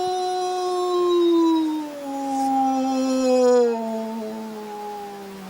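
Long, wavering howls from several wolves overlap and drift in pitch, sustained and mournful, with no other sounds.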